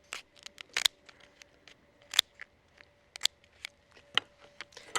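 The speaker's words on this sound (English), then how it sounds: "The first step is to cut it down the back using" Sturdy scissors snip down the back shell of a Moreton Bay bug, a flat slipper lobster, in a series of sharp, close crisp cuts and clicks at irregular intervals with no talking.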